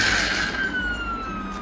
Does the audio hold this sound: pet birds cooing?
no